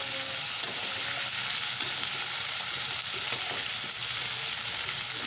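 Ginger paste and potatoes frying in oil while being stirred, giving a steady, even sizzle that stays close and constant throughout.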